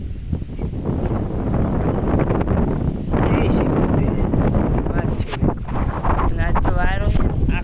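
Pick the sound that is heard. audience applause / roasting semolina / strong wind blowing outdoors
strong wind blowing outdoors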